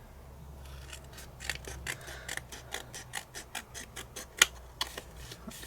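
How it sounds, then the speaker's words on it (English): Scissors snip around card paper in a quick series of close, crisp cuts, roughly a dozen in a regular rhythm, with one sharper click near the end and no talking. "And then I'm going to cut around it."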